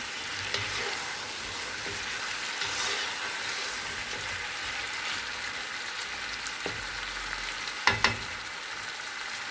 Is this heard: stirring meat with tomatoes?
yes